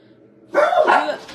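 Dogs bark in a short loud burst after a quiet start, a couple of sharp barks close by with a yelping edge.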